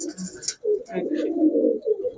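A Giribaz pigeon, an Indian-Pakistani high-flyer type, coos close by in a steady, throaty murmur lasting most of the moment, with a brief higher note at the start.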